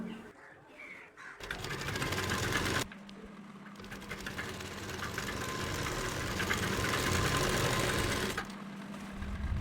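A sewing machine stitches the hem of a Patiala dhoti salwar. The close, loud, steady rapid whirr runs in long bursts broken by brief stops, with a lower motor hum between runs.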